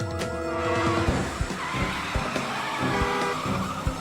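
An animated car skids and peels away as Meg floors the gas as a getaway driver, a sustained tire screech with engine noise and a few sharp knocks throughout.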